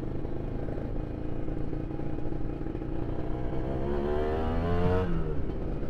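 A 2015 Kawasaki Ninja R special edition motorcycle ridden on a road, without full throttle, holds a steady close engine drone with wind noise, and the revs climb toward the end.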